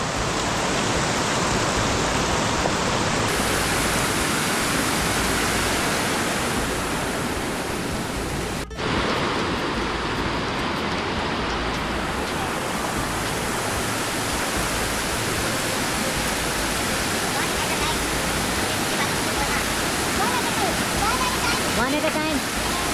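A clear mountain stream crossing the trail on a Himalayan trek toward the Valley of Flowers and Hemkund Sahib. Running water rushes loud and close, a continuous broadband roar that holds steady throughout.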